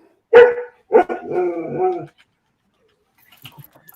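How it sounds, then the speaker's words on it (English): A dog barks sharply nearby, then gives a longer whining, drawn-out bark, followed by silence and a few faint distant sounds. "I hear dogs barking."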